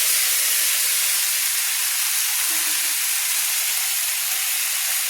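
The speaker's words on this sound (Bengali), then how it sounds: "তেলের সঙ্গে আমি পুঁই মুসুরিগুলো সুন্দর করে আমি কষিয়ে নিচ্ছি" Malabar spinach stems stir-frying in oil with other vegetables for a shrimp dish, heard as a loud, unbroken hissing sizzle that holds steady throughout, close up, with no talk.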